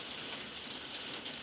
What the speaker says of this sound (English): I do apologise about the rain, please stop.